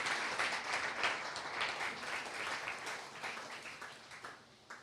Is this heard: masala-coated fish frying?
no